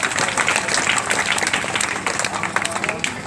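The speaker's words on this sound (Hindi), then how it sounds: "शादी होगी एक बार जोरदार तालियां" Guests at a Buddhist wedding applaud the couple with a continuous, fairly loud burst of clapping and crowd murmur lasting the whole moment.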